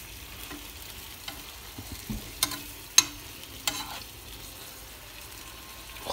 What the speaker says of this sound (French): Hop là, on mélange.